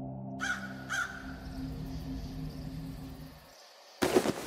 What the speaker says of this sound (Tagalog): Tanging mga huni ng ibon sa di kalayuan na nagmumula sa bukas na pinto ng lanai ang dinig na ingay.